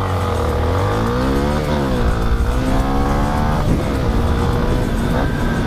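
Honda XRE 300 and Yamaha Twister 250 motorcycles launch side by side in a drag race, engines revving hard and rising in pitch through the gears, loud and close throughout.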